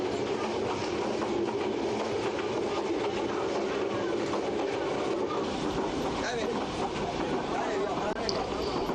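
A passenger train in Burma runs along, heard from the passage between two wagons next to a kitchen wagon with a wood fire: a steady, loud rumble with rattling clatter and faint metallic squeaks throughout.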